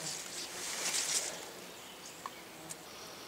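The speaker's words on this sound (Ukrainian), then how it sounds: "тільки блиснуло сонечко із-за хмар, і бджоли вже тут як тут. Працюють на рівні з жмелями" Honeybees and bumblebees drone faintly around flowers outdoors, a soft continuous buzzing with a brief closer pass early on and a few small clicks later.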